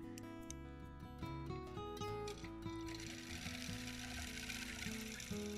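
A sewing machine stitches a small mini quilt in quick, rhythmic bursts of mechanical whirring with brief pauses, close and fairly quiet, joined by a broad airy hiss partway through.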